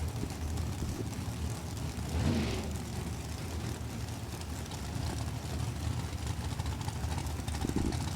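A dragster powered by a pair of big block Chevrolet engines sits at a drag strip, a fairly faint, steady engine rumble carrying from a distance through the track's background noise.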